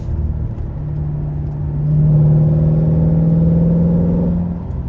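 A C7 Corvette Z51 engine drives in fourth gear, a close, loud low drone that rises in pitch and volume as it pulls, then eases back slightly, heard from inside the car.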